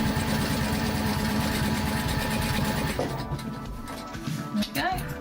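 A sewing machine stitching a water bottle bag runs steadily with a fast mechanical whir for about three seconds, then stops, followed by quieter handling noises.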